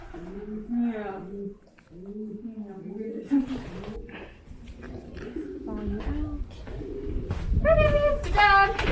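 Pigeons or doves cooing at Wild Friends, the bird area of Best Friends Animal Sanctuary, a low repeated coo recurring through the clip with chirps and a dog bark or two nearby, mixed under people talking.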